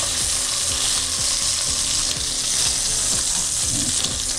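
Salmon fillet sizzles and crackles steadily in a hot frying pan, a loud continuous fry with small scraping clinks as the fish is turned over; no one speaks.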